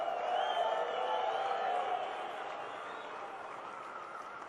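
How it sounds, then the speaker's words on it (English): An evening event audience gives a big round of applause, a dense wash of clapping that holds steady and then eases slightly toward the end. "why don't we give a big round of applause for those that aren't here"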